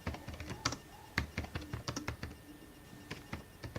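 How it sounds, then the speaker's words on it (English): Fingers type quickly on a computer keyboard nearby, an irregular run of crisp key clicks and taps at moderate volume over a low background hum. "I'm typing it in"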